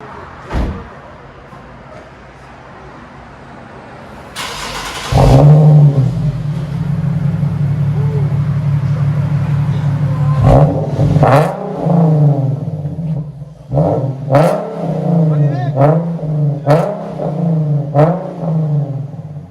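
A 2014 Nissan 370Z with a Flowmaster Flow FX dual exhaust starts with a bang of the starter, settles into a loud close idle, then barks through a series of sharp revs in quick bursts.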